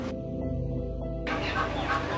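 Chickens cluck at a poultry market where chicken is bought by weight, a steady mix of fowl noise with busy market sounds, fairly close and continuous.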